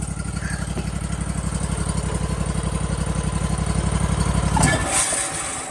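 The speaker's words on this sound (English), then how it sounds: "It also throttles the engine up." The engine on a Big Red XP sawmill runs at a steady, throbbing idle close by. It then shifts abruptly near the end as the throttle or load changes.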